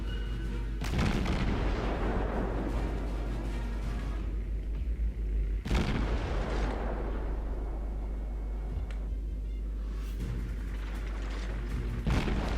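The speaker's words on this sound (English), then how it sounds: "I'm just trying to put in harassing fire at the moment." A destroyer fires its naval guns in World of Warships. Three heavy booms land several seconds apart, each with a sharp crack that decays into a long low rumble over a constant deep drone.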